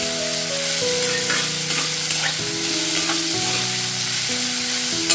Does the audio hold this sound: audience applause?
no